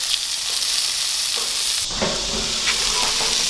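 Hamburgers fry on a grill with a close, steady sizzle and crackle, a dense hiss that holds for the whole stretch with small pops throughout.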